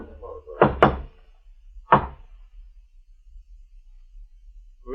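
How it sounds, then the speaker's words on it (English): Knocking on a door in a radio drama: a quick double knock followed by a single knock, close and distinct against near silence. "We stopped in front of it, and the blind man knocked."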